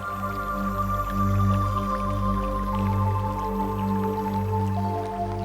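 Water runs steadily from a kitchen tap while someone washes dishes, a constant close stream with a faint low hum beneath it and no voices.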